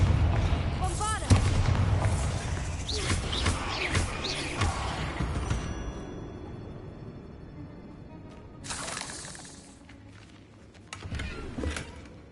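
Bombarda and Confringo spells in Hogwarts Legacy on PS5 go off as several loud booming blasts with rumbling debris in the first half. Quieter stretches and two later bursts follow, and a player's voice speaks at times.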